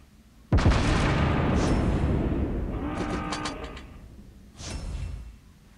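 Ship guns fire in World of Warships Blitz, heard as a sudden loud boom that rolls into a long rumbling roar, with a second, softer blast near the end.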